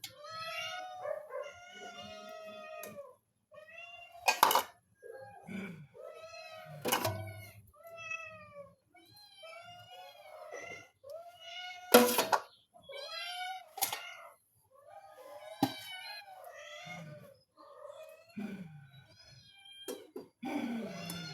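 Several hungry cats meow again and again at close range before feeding, with overlapping calls, some drawn out and others short, and brief pauses between them.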